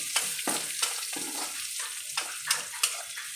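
Onions frying in a pan for horse gram sambar, a steady close sizzle punctuated by a series of sharp stirring scrapes at irregular intervals.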